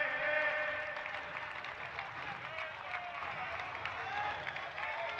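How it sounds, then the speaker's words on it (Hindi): A large crowd at a BJP gathering for the new party president announcement claps in a dense, sustained wash of applause that stays fairly distant and even, with crowd murmur mixed in. "जोरदार तालियों से हम हमारे नेताओं का स्वागत करेंगे"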